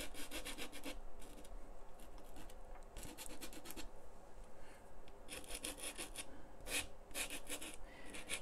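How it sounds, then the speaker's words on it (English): A gritty, sandy homemade pastel rubbed across paper, with rough scratching strokes in quick bursts separated by short pauses, close and fairly quiet. "You can hear the grit, the sand in that."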